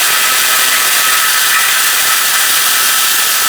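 Power tool removing the nuts holding the washer reservoir on a Chevrolet Cruze, a loud, continuous high whirring drone held steadily and close throughout.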